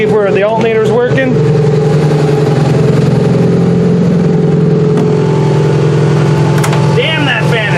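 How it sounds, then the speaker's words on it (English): A loud car cooling fan roars steadily and close throughout, a constant whooshing drone with a running engine hum beneath, while someone talks briefly at the start and end. "Damn, that fan is loud."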